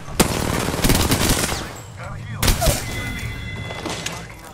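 Rapid gunfire at enemies on a rooftop in Apex Legends, with bursts of shots and thuds in the first seconds, a further volley midway, and players talking over it.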